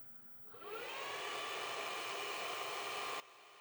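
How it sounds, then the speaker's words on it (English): Electric space heater powered from a Ryobi 80V 1000 watt battery power source and switched on at low, its fan whirring up with a rising tone, holding a steady whoosh and hum for about three seconds, then cutting off abruptly. "so I'll plug the heater in and turn it on low to start."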